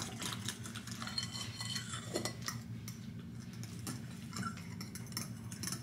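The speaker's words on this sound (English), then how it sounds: "I'm gonna start stirring this until it's mixed" A spoon stirs pudding mix in a bowl, making a soft, steady scraping and clinking with a quiet, repetitive rhythm close by and no speech.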